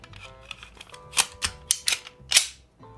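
A PSA Dagger pistol being reassembled with its recoil spring: a quick run of sharp, close metallic clicks and snaps, several loud ones clustered near the end, with no talk.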